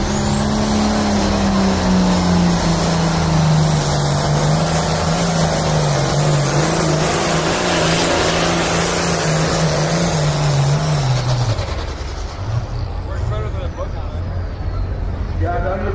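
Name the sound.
pulling tractor with 3-inch turbo spooling up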